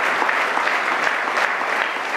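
An audience at a community blood-donor recognition event gives a round of applause, a dense, steady clapping from a roomful of people that fills the moment without any talk.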